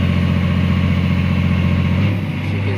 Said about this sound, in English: Engine power is good.